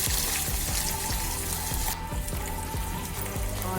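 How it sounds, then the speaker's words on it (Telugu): Urad dal and fenugreek seeds fry in hot oil for a kanda pulusu curry, a steady close sizzle and crackle that continues without pause and with no voices. "ఇవి ఫ్రై అవుతున్నాయి కదా"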